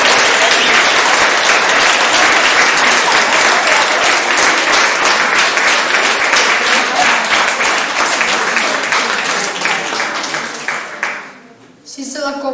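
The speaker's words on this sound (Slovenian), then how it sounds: "Prosim, še enkrat velik aplavz za najboljše deklamatorje" Loud, sustained audience applause at a children's recitation festival award ceremony, a thick, even roar of clapping that runs for about eleven seconds before tapering off abruptly, with a few voices rising near the end.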